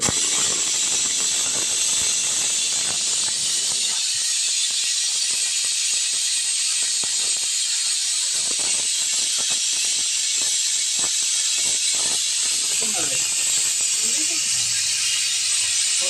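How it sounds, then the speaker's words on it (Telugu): A loud, continuous high-pitched hiss of steam fills the whole clip as a pressure cooker of mint rice whistles, with clattering and brief voices underneath. "ఇలా రెండు విజిల్స్ వస్తే సరిపోతుందండి"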